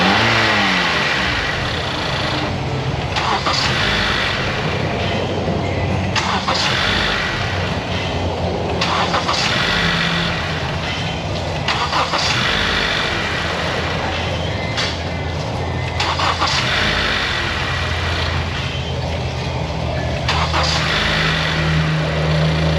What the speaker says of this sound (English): Maybe I'll hold the gas pedal down and put it in clear flood mode and crank it over for 5, 8, maybe 10 seconds